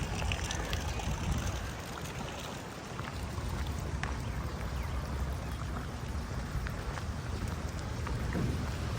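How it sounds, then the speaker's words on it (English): Steady rain falls outdoors at a brick restoration site on a roughly 100-year-old building, a dense continuous hiss with a low rumble underneath and faint scattered knocks. "Rainy day."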